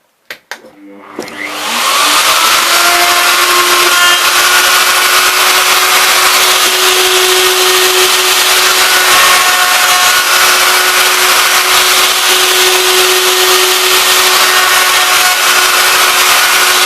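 Zinsano RT12VR half-inch router cutting wood, a loud steady high-pitched whine that spins up quickly and holds without pause, with no voices.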